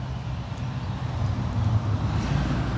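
A low, steady road rumble of traffic passing at a distance, broadband and fairly loud, with no voices.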